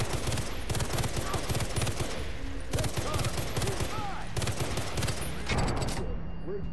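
Enemy gunfire in Far Cry 3: dense, rapid automatic bursts overlapping almost without pause, loud and sustained, with faint voices mixed under the shooting.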